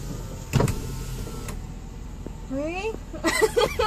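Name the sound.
car power window being opened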